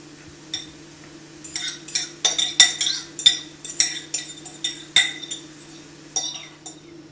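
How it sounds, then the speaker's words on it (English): Eggs going into a hot pan of sautéed onions and mushrooms, with a utensil clinking and scraping against the metal in quick, irregular strokes, loud and close over a steady low hum. "Go ahead and put the eggs in"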